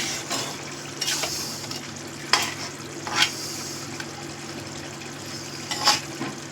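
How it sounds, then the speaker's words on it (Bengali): Ash gourd curry, cooked down and watery, is stirred and turned over in a hot pan, giving a steady wet sizzle broken by a few sharp scraping strokes of the spoon. No one talks. "একটু আবারও মিশিয়ে দিচ্ছি,"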